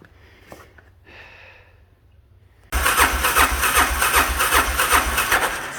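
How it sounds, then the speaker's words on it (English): A motorbike engine cranks in the cold without catching, a loud rhythmic churning that starts suddenly after a few quiet seconds of faint background sound, with no voices. "bike cranking and cranking, but not starting over there"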